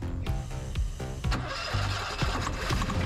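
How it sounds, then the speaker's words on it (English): An Onan Marquis Platinum 5500 RV generator engine with a fuel-line problem cranks on starting fluid, with a rapid, loud, uneven chugging of several turnover pulses that nearly catches. "I want to make sure the engine kicks over"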